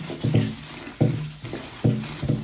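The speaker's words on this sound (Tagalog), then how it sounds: "huhugasan ko muna at pipigaan ko ng mabuti" Taro leaves washed by hand under running tap water for a Filipino laing dish: a steady stream with rhythmic splashing and sloshing bursts as the leaves are rinsed and squeezed, close and clear.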